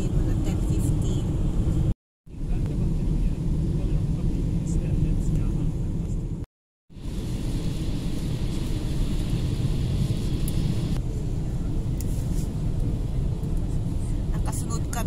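A car drives along a road in Vänersborg, Sweden, in icy conditions behind a large truck, a steady loud rumble of road and engine noise that runs throughout, briefly cut off twice.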